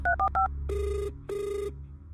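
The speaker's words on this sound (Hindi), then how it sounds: "वो अपना फोन निकालकर आयशा को कॉल करता है।" Mobile phone ringtone during an outgoing call: a quick triple electronic beep, then two longer sustained tones with a gap between them, fairly clean over a low hum.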